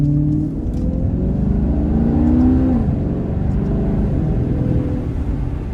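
A loud 2016 Maserati GranTurismo Sport engine droning steadily, with the pitch rising then dropping as it downshifts, close and continuous with no talking.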